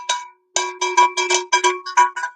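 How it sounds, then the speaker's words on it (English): A victory bell, struck repeatedly in celebration of a live stream super chat, rings out in about nine close, loud, evenly spaced metallic clangs with short ringing decays and no talking. "when we get a super chat, we do got a bell."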